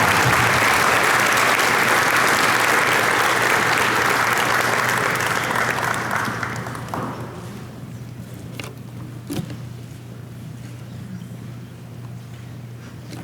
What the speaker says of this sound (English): Let's give those students a round of applause.